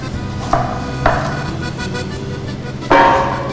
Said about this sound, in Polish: kroimy pietruszkę.